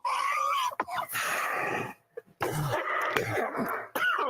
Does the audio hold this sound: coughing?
yes